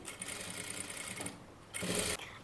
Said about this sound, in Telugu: ఇప్పుడైతే ఈ ఫ్రిల్స్ కూడా ఇలా దగ్గరికి పెట్టుకుంటూ పెట్టుకుంటూ పెట్టుకుంటూ స్టిచ్ చేయాలి జాగ్రత్తగా స్టిచ్ చేసుకోవాలి